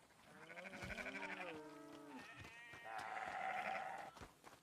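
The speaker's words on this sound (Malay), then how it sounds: "Oh, tu bunyi lembu" Livestock calling out in a roleplay video game set on a ranch, a series of harmonic lowing or bleating calls filling the clip, fairly loud and alone with no talk over them.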